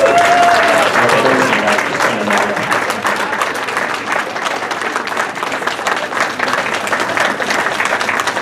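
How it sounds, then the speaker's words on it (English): A quick round of applause at a gala evening honouring a social committee: dense, loud, sustained clapping from a large crowd, with a brief voice at the start. "You all deserve a real quick round of applause."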